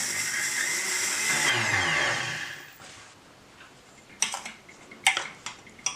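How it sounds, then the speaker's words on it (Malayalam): An electric mixer grinding roasted rice with cardamom into powder whirs loudly for about two seconds, then stops, followed by scattered clinks and taps of the jar and lid. "നമുക്ക് അടച്ചു വെച്ചിട്ട് നന്നായിട്ടൊന്ന് പൊടിച്ചെടുക്കാം."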